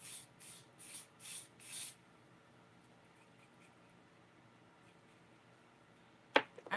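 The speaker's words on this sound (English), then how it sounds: "I'm gonna use my glueless spray." Glueless spray for a wig, five quick hissing pumps in a row from an aerosol close to the mic, then quiet with a single sharp knock near the end.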